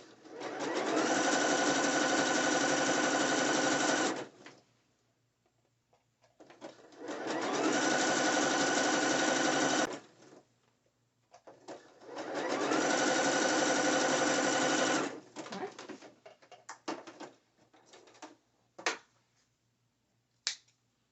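Sewing machine stitching braided elastic onto a net thong bikini, running in three long steady bursts of whirring with pauses between, then several short stitches and brief clicks toward the end, close and loud with no talking.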